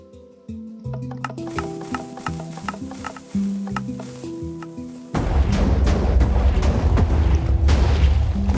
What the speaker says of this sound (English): Launch several TNT at once.